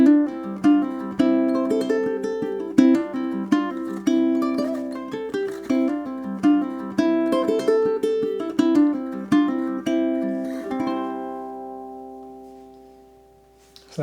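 A ukulele plays a four-bar etude with hammer-ons and pull-offs, plucked notes in a quick steady rhythm. It slows near the end into a final ringing chord that fades out, played solo and close.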